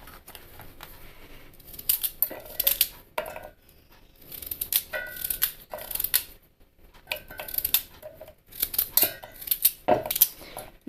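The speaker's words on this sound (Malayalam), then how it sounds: "നമുക്ക് ഈ കാരറ്റും തക്കാളിപ്പഴവും ഒന്ന് ചെറുതാക്കി മിക്സിയിൽ ഇട്ട് കൊടുക്കാം അടിച്ചെടുക്കാനായിട്ട്." Carrots and tomatoes being chopped into small pieces on a board for a blender health drink, heard as repeated crisp knife cuts in quick clusters with short pauses between, close and fairly loud, with no talking.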